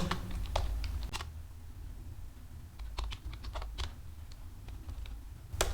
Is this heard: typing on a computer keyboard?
yes